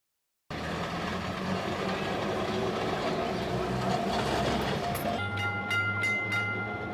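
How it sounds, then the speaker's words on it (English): A Kolkata city tram running on rails, heard as a steady loud rumble and rolling roar from start to finish, with squeals and clicks near the end. "Kolkata's tram system, which has been a part of the city's landscape since 1873"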